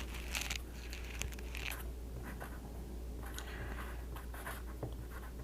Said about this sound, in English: Now let's write a line here